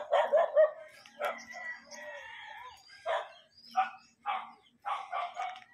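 Outdoors in a Philippine neighbourhood, a dog and a puppy bark in short, sharp, spaced bursts, some quick doubled yips and some single louder barks, fairly close by.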